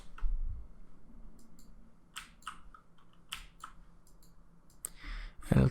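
Typing on a computer keyboard: scattered quick clicks and short bursts of keystrokes, fairly close and moderately quiet, with pauses between bursts and no speech.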